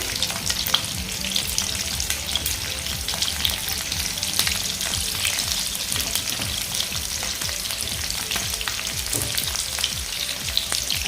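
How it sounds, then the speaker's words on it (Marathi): Eggs frying on a tawa over a low gas flame give off a steady, close sizzle and crackle for the whole stretch, with scattered spatter pops and no voices. "तर हे आपण दोन्ही साईडने फ्राय करून घेऊया"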